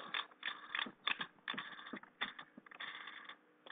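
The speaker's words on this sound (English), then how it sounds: "this draw tube will be screwed back into the device" A draw tube is screwed back into an eLeaf iJust vape device, giving a run of close, light metallic threading clicks and scrapes in quick irregular bursts, with no talk.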